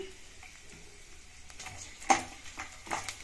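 Garlic is added to hot oil for an Indian amla (gooseberry) pickle, giving a quiet sizzle with a few sharp clinks and stirring scrapes of a utensil against the pan.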